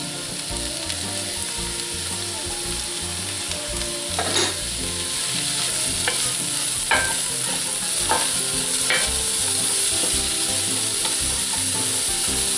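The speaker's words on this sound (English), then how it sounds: "my pepper, celery, and onion," Pepper, celery and onion sautéing in a cast iron pan for sausage corn soup, giving a loud, steady close sizzle with occasional scraping stirs and light clicks of a utensil, without talk.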